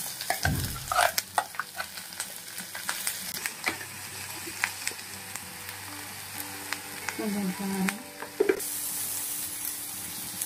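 Carrot and ginger hit a hot pan and sizzle steadily, with stirring clatters and scrapes through the frying; no one speaks.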